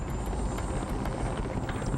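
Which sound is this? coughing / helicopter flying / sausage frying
helicopter flying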